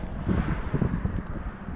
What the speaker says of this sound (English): It is rather windy today, and you know I don't like walking in the wind.